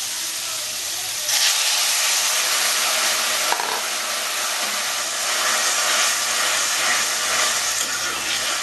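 Water poured into a hot pan of vegetables, including bitter gourd, for Bengali shukto bursts into a loud, steady steam hiss and sizzle that starts abruptly and holds close and continuous to the end.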